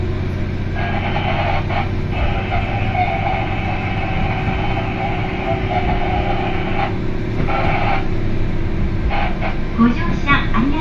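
An Ibara Railway IRT355 one-man train runs between Kannabe and Soja, giving a steady low rumble and hum of the moving railcar throughout, while an onboard announcement voice speaks over it in stretches.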